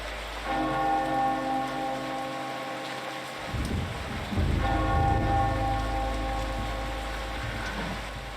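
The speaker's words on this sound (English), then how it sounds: "It is the custodian's task to ring the bell at appropriate times." A church bell tolls in a bell tower in the Eternal Darkness video game, two loud ringing strikes whose long metallic hum lingers and decays, heard alone over a low background rumble.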